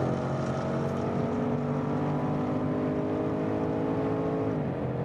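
A Range Rover Sport SVR's 550-horsepower V8 roars continuously and loud on the Nürburgring, its pitch climbing steadily as it revs hard under acceleration, then dropping near the end.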